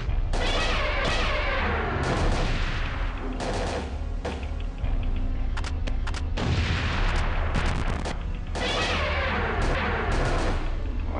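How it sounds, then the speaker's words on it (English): Gunfire from Parasite Eve 2, heavy booming shots and bursts close up, arriving in clusters with brief gaps, the blasts loud and punchy throughout. "Come on, shoot him out."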